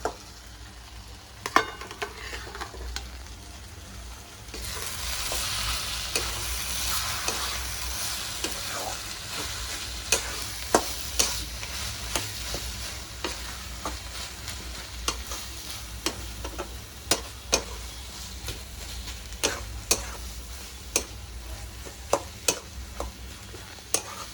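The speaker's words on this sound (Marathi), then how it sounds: "वांग एकजीव केलेलं आपण त्यात आता टाकून घेऊया।" Mashed eggplant for Maharashtrian bharit goes into a hot pan, bursting into a loud sizzle after a few seconds, with steady frying hiss and repeated clinks and scrapes of a spoon stirring, no talk.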